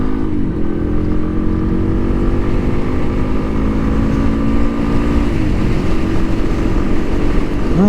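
A 2012 Yamaha XT250 motorcycle engine drones loud and steady in third gear at highway speed, its pitch holding mostly level with slight shifts, alongside heavy wind rush throughout.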